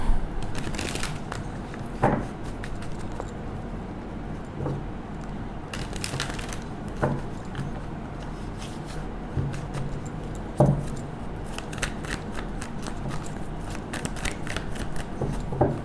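Tarot cards are shuffled by hand in a long run of papery riffles and flicks, with sharp slaps at intervals and bursts of rapid crisp rustling, close and fairly loud, without any voice.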